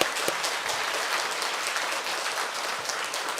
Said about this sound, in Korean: 우리 격려에 크게 온 교회 격려의 박수 한번 해요.